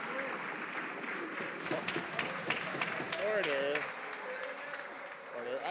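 Members of parliament break into applause in the chamber, a dense burst of clapping under a voice calling for order, with murmuring and shuffling mixed in as the clapping carries on.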